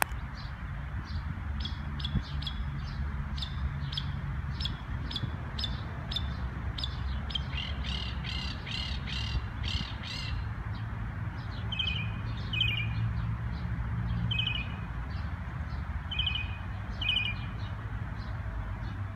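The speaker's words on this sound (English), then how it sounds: "this mockingbird can sing up to 200 songs to keep other birds away from its nesting site" A bird sings a varied series of bright, repeated chirps and whistled phrases, changing patterns every few seconds, over a low steady background rumble.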